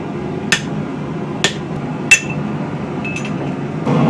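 Sharp chisel struck to split the spine of a handmade feather-pattern knife: three sharp metallic hammer blows spaced about a second apart, then a fainter tap, over a steady workshop hum.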